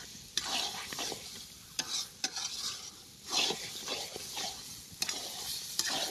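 Mutton marinated in yogurt is stir-fried in a pan, a continuous soft sizzle broken by repeated scraping strokes of a spatula and occasional light clinks against the pan.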